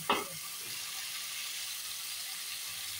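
Meat sizzles steadily in a hot pan as it is stirred, a continuous bright hiss with a brief louder clatter of the spoon at the start, close and without talk.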